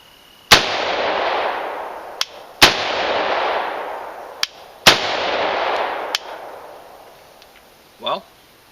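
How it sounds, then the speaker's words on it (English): A semi-automatic rifle fires four single shots, one per trigger squeeze, spaced roughly two seconds apart. Each crack is loud and sharp, followed by a long rolling echo outdoors. "I'll fire it, and you tell me if it's an assault weapon."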